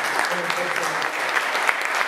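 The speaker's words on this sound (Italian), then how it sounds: "mi piacerebbe che l'applauso fosse davvero rivolto a lui" Audience applause at an AIDO organ-donation event in Piedimonte Matese, a dense, steady wash of clapping from a crowd, loud and close, with a voice speaking underneath.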